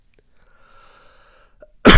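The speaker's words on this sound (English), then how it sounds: "I'll get the usual occasional cough" A single sharp, loud cough bursts out close up after a moment of near silence.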